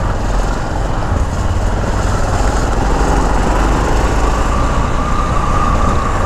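Yamaha XT660 motorcycle ridden with a passenger, a loud continuous engine drone with rushing wind noise that holds steady the whole time.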